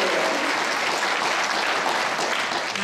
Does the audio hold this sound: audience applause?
yes